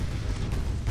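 A torpedo strikes a warship in the naval combat game Ultimate Admiral: Dreadnoughts, giving a dense, low, rumbling boom that holds steady through a short burst with no speech over it.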